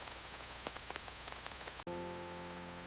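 Rain falls steadily during a storm as a dense hiss with scattered drop ticks, then cuts off abruptly and gives way to a quiet, steady hum.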